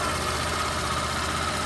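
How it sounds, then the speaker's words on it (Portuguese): A Yamaha Fazer 150 motorcycle engine idles steadily on its first start, a close, continuous mid-pitched engine drone with a faint rattle and no voices. "Primeira partida, o motor já está lubrificando, ó."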